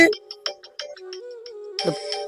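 A mobile phone ringing with a melodic ringtone of short repeated tones in a home setting, fairly clear and close, ending in a brighter, louder burst.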